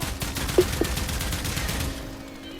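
Kuva Kohm shotgun in Warframe firing at a very high rate, a dense rapid volley of shots rattling off for nearly two seconds before cutting out, loud and close.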